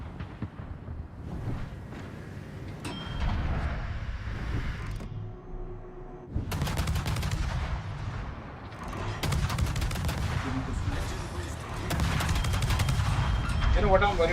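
Warship main guns firing in the naval combat game World of Warships, a continuous run of heavy booming salvos and explosions with dense low rumble across the clip, a brief lull near the middle, and a voice speaking over the battle.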